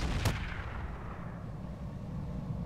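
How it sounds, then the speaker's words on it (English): A single gunshot in the mech combat game Roguetech, a BattleTech mod, cracks sharply near the start and then fades into a low rumbling ambience. "A shot."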